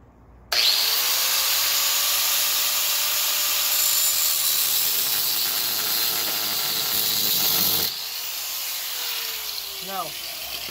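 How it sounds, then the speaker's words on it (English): A power grinder cuts metal off a scooter's steering stop, a loud continuous whine that holds steady for several seconds, then drops and keeps grinding more quietly before it spins down. "let's try to grind it off."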